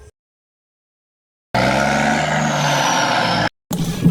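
A cartoon truck rolls in after a stretch of silence: a loud, steady engine drone with hissing, air-brake-like bursts, cut off briefly before the motor resumes near and strong.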